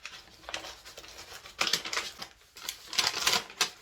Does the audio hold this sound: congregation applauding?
no